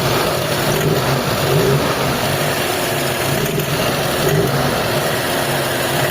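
An Adventure vehicle's car engine runs close by, revving unevenly with a rough, stuttering, misfiring idle; the engine lacks pulling power, especially with the air conditioning on.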